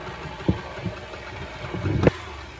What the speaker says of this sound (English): I will grind up some more flour just so I have it for a standby